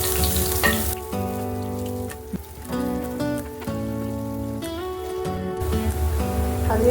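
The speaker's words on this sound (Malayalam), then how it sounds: "അതിനുശേഷം തേങ്ങ സ്ലൈസ് ചെയ്ത് വെച്ചേക്കുന്നത് ഒന്ന് ഫ്രൈ ചെയ്യുക" Sliced coconut frying in hot coconut oil, a dense, close crackling sizzle throughout, with steady tonal background music layered over it and no speech.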